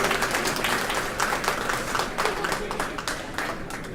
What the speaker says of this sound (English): Guys, a round of applause for all the speakers in the earlier panel,